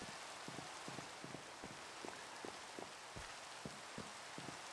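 Rain falling in Minecraft, a soft steady hiss of rainfall with faint scattered drop taps across the whole stretch, quiet and even, no voices.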